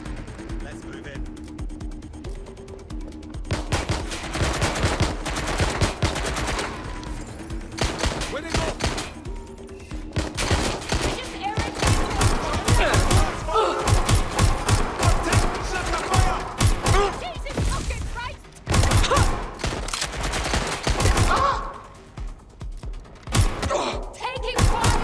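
Heavy gunfire in a Watch Dogs Legion firefight, with loud repeated shots and bursts, thuds and mechanical clatter over about twenty-five seconds, and voices shouting at times.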